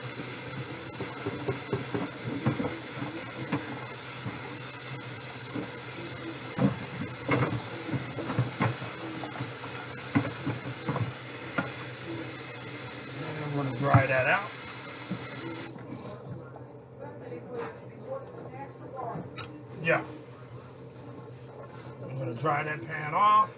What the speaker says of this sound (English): Go ahead and scour this pan out right quick.